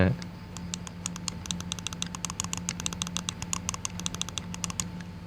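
Rapid crisp clicks from the buttons of a Darmoshark M5 Pro mouse during unboxing, a fast irregular run of sharp taps close to the microphone over low hum.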